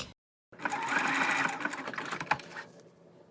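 Sewing machine running a practice blanket stitch, a loud close mechanical whir of rapid needle strokes lasting about two seconds after a brief silence, then slowing and trailing off.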